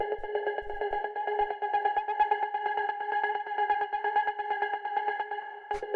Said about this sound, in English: after that we have what I'm referring to here as a rhythmic pad